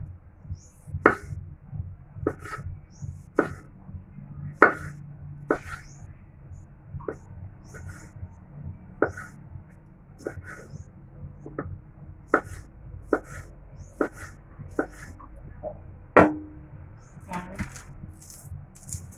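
A knife chops milkfish and vegetables, including onions, on a cutting board: sharp, separate knocks at a steady pace of roughly one per second, close and crisp over a low background murmur.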